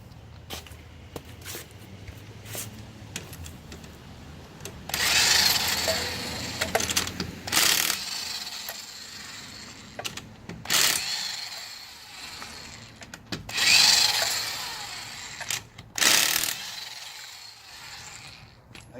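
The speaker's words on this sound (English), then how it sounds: "You're going to take off this wheel, take off the other wheel, and swap them." A car wheel's lug nuts come off during a tire rotation on a front-wheel-drive car, making repeated ratcheting, whirring bursts of a wrench spinning them loose. The bursts are close and loud with short pauses and light clanks between them.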